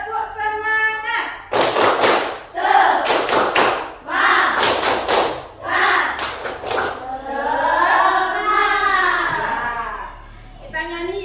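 Children in a classroom perform the tepuk semangat clapping routine, bursts of sharp rhythmic claps in groups alternating with chanted and sung phrases from the kids, close and lively.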